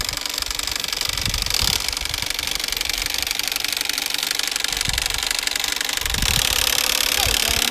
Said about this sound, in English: Got that engine shake going.